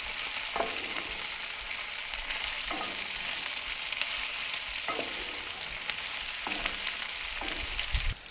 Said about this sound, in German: Das Öl ist heiß, dann geben wir mal die Zwiebelringe rein. Und die braten wir uns erstmal schön glasig an.